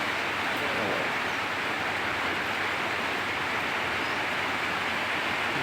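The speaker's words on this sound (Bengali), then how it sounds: "ঠিক আছে, মিডিয়াম বৃষ্টি পড়তেছে" Medium rain falls in an unbroken, even wash of hiss that holds at a steady level the whole time, with no talking or other distinct sounds.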